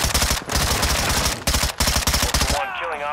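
Rapid automatic gunfire in the Call of Duty DMZ video game hammers out in loud dense bursts with short pauses between them, then breaks off into a brief trailing whine.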